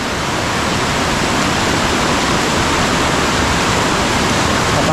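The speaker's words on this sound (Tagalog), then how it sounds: "Napakalakas ng tubig." Strong rushing water of a flooded mountain stream after heavy rain in the mountains, a dense, loud, unbroken roar that stays steady and close throughout with no voices.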